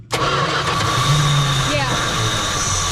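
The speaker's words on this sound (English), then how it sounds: "If it cranks up, I'm gonna rev on it." A 1985 Dodge pickup's engine cranks briefly and catches, then settles into a steady, loud running idle close by.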